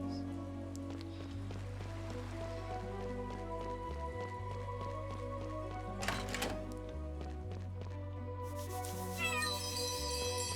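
A cat meows in the video game Chained Echoes, short mewing calls over steady looping game music with rain-like ambience, fairly close and clear.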